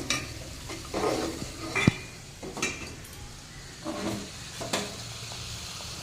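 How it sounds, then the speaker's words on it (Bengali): Tele pithe, sweet fritters, frying in oil, a continuous soft sizzle broken by repeated scraping stirs and a faint clink of utensil against pan, close by and without talk. "আর বাকি তেলেপিঠেগুলোও ভেজে নিচ্ছি"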